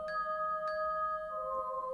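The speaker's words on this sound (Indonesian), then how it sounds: "tiba-tiba suara kemerincing lonceng membuyarkannya" Small bells jingle in a horror story: two bright chime strikes ring out over a steady sustained tone, tinkling faintly and clearly, alone without talk.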